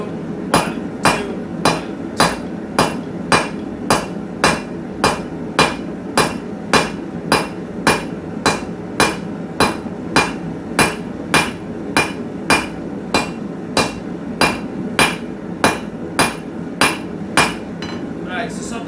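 A hammer forges a set-down into hot metal while shaping a simple leaf, landing half-on, half-off blows. About thirty sharp, ringing strikes fall in a steady, even rhythm, loud and close, with no pause.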